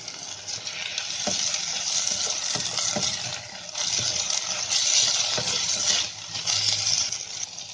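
Tomatoes added to a pan of fried onions sizzle loudly and steadily, with occasional stirring scrapes and taps, close up and with no voices.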